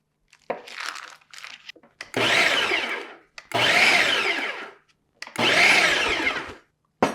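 A food processor whirs through keto gingerbread scone ingredients with cream cheese chunks in several loud pulses of a couple of seconds each, short gaps and small clicks between them.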